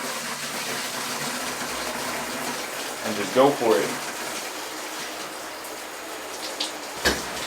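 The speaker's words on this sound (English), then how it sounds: "Get that cold water on." Cold water runs from a tap into a bathroom basin or tub in a steady hissing gush, with a person speaking over it and a brief surge of splashing midway.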